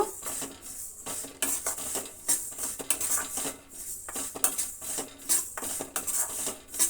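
White sesame seeds roasting in a pan on the stove, stirred with a spoon that scrapes and clinks against the metal in an uneven repeating rhythm, with a light patter of dry seeds, close and fairly loud.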